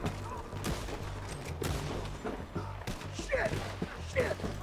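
Gunfire in a Red Dead Redemption 2 shootout, scattered loud shots and volleys with heavy thuds, mixed with game voices and commentary talk.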